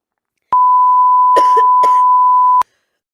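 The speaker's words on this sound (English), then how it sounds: "I just had an absolute coughing fit" Two rough coughs, close and loud, heard over a steady electronic beep tone that starts and stops abruptly.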